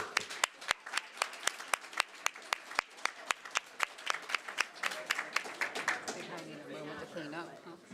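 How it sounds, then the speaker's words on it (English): Scattered applause from a small audience at a school district board meeting, with distinct individual claps at first that thin out into murmured chatter and room talk toward the end. "Can we just give them another round of applause, please?"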